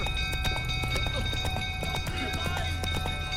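Witcher 3 horse Roach galloping, a steady rhythmic clatter of hooves kept up throughout, with talking and a busy background mixed over the hoofbeats.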